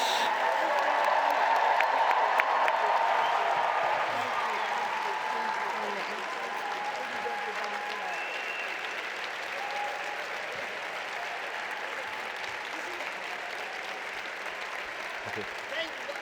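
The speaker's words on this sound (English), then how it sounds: "a thunder of applause for Natalie and Satish" A full audience at a closing ceremony breaks into loud, sustained applause for two honorees. The clapping is strongest at first, then settles into a steady, slightly softer roar that continues to the end.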